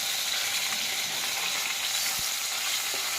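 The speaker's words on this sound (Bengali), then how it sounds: "একটু কড়া করে ভেজে নেবো, বড়ো তো মাছটা" Large pieces of rohu fish fry in hot oil with a dense, even, continuous sizzle and a faint tap or two near the end.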